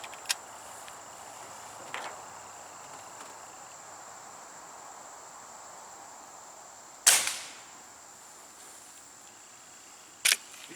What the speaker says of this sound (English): can definitely hear the pellets smacking in the background there.